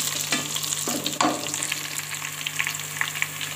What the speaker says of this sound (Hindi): अब इसमें ऐड करेंगे 1 टेबल स्पून मेथी और 1/2 टी स्पून ज़ीरा। थोड़ा सा इसको हिलाएंगे।